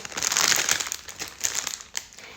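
Labubu blind box packaging is torn and unwrapped up close, with crisp crinkling and crumpling bursts of plastic and paper, louder at first and then in shorter rustles, with no talk.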